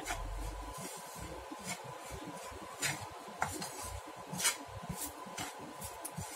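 Bitter gourd dry fry stirred and mixed in a pan: steady close scraping of a spatula against the pan over a faint sizzle, with occasional sharper scrapes and no talking.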